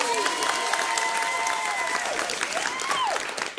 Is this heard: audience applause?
yes